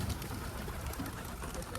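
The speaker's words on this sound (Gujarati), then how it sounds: "આ બધા ઉડ્યા કબૂતરા" Pigeons coo in a steady low murmur throughout, with a busy bird presence close by; flapping takeoff is not distinct.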